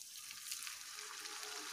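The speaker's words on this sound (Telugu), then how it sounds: "మీడియం ఫ్లేమ్ పెట్టుకుని అన్నీ డీప్ ఫ్రై చేసుకోవాలి." Potato smileys deep frying in hot oil over a medium flame, a continuous fine hissing sizzle, steady and fairly faint throughout.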